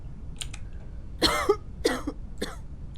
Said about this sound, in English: And she's coughing.